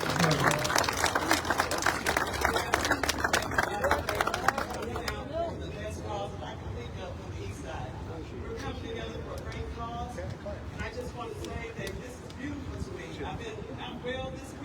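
Crowd applause at a community gathering in Oklahoma addressing youth violence: dense, loud clapping fills the first few seconds, then fades under a murmuring crowd and voices for the rest.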